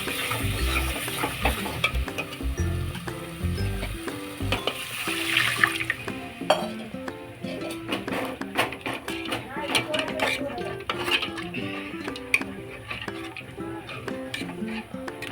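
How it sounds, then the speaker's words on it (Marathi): Masala frying in oil for a village-style mutton dish, with water added partway: steady sizzling alongside repeated scraping and clinking of a spoon against the pan, close and fairly loud. "आता आपण यात थोडं पाणी ऍड करूया।"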